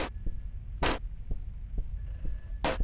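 An old telephone bell rings in short bursts inside a horror video game house, the rings spaced about a second apart over a low throbbing drone.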